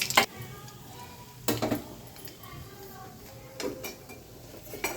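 Mustard seeds crackle and splutter in hot oil while poha chivda is being made, with sharp popping bursts rising over a steady faint sizzle near the pan.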